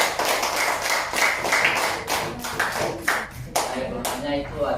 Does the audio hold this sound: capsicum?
no